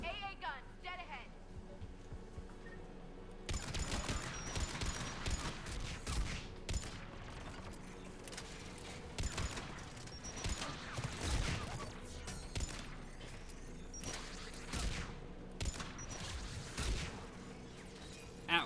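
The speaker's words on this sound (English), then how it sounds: "AA guns, dead ahead." Anti-aircraft guns fire in a Mass Effect 3 battle, a dense run of booming bursts and explosions that continues steadily under a voice for most of the stretch.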